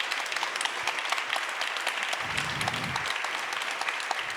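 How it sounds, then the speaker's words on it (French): Steady audience applause at a French book event honoring readers, dense and even clapping that fills the whole stretch with no voices on top. "les lecteurs, les lectrices, je vous en prie, faites-vous applaudir, vous l'avez largement mérité"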